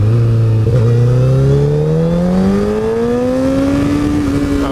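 A 2008 Honda CBR 1000RR sport bike accelerates hard and loud up close, its engine note rising steadily and smoothly through a single long pull with a brief dip near the start.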